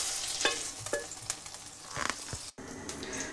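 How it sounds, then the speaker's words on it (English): Kidneys sizzle and fry in a casserole dish alongside sausages, onions and garlic, a steady close hiss with a few stirring scrapes and clatters, briefly cutting out for a moment near the end. "I'm now going to add the kidneys to the casserole dish that already has the sausages,"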